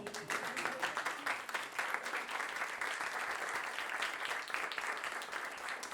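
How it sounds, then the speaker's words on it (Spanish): Continuous applause from the audience at a book presentation, a steady dense wash of clapping that holds at an even, moderate level throughout. "¿se puede hacer un aplauso continuo?"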